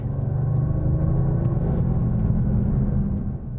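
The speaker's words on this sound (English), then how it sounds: "I'm pushing the car a little." A Mercedes-AMG CLE 53 coupe's engine drones under throttle as the car is pushed, a steady, fairly loud low rumble heard alone with no talk.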